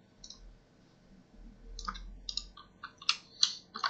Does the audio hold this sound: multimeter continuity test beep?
no